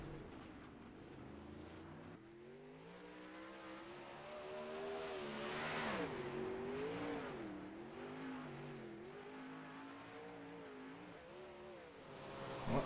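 A 360 sprint car on a victory lap at the Australian Speedway League round at Charlotte, engine revving and surging up and down in pitch as it burns down the front straight, heard steadily from a distance.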